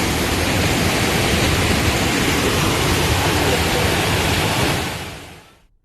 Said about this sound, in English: water poured down from the roof like a